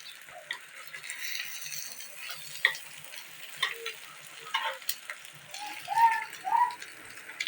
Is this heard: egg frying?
yes